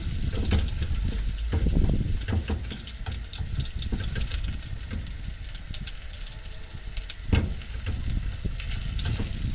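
Tomato frying with a garlic clove in a pan gives a dense, continuous sizzle and bubbling crackle, close up, with occasional scrapes and knocks of a utensil stirring.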